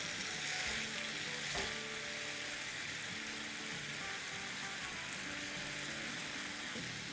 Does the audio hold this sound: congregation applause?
no